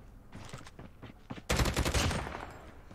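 Kilo 141 assault rifle fire in Call of Duty Mobile: a few scattered shots give way to a loud, rapid automatic burst that rattles on and then tails off.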